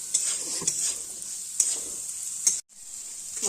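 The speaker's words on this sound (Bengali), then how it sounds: "মাংসের সাথে সবজিগুলো দিয়েও ভালো করে ভাজা ভাজা করা হয়ে গেছে" Mutton and vegetables fry in a pan with a loud, constant sizzle, broken by several sharp scrapes and knocks as they are stirred, then a brief silence before the sizzle returns.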